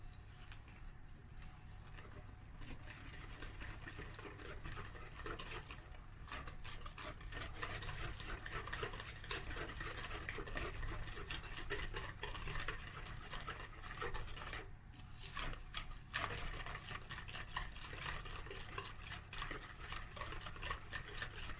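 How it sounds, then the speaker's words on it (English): A spoon stirs vanilla-flavoured malva pudding batter in a bowl, a quiet, continuous rhythmic scraping and patter that stays faint and steady throughout with no talking. "And now we stir."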